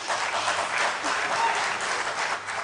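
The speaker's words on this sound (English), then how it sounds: "A huge round of applause" Sustained applause from a symposium audience fills the room, a dense, even roar of many hands clapping with a faint voice or two underneath.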